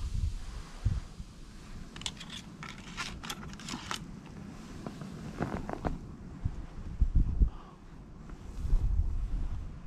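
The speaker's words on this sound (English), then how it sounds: "We got quite a bit of wind here." Gusty wind blowing outdoors while frozen bubbles are being made, buffeting the microphone in uneven rushes with short crackling bursts and stronger low gusts toward the end.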